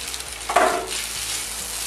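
Smoked salmon being stirred into a fettuccine sauce in a pan, a steady close sizzle with a brief louder scrape of mixing partway through, no talking.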